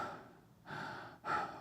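Laboured, strained breathing of a man struggling in the silent jungle heat, heard as two or three long, rasping breaths with a brief pause between them, close and fairly quiet, with no talking.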